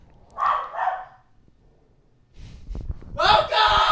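A pet dog barks indoors in two bursts, a pair of sharp barks early on, then a pause before a louder run of barking, with some handling noise.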